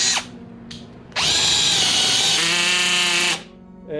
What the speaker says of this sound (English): now you could drill and it will stop if it gets too tight